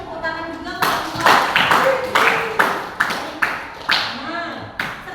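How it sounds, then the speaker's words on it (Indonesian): A class of students claps for a classmate during a biology lesson, several bursts of hand claps mixed with voices chattering over them. "Kita kasih tepuk tangan juga ke Alifah."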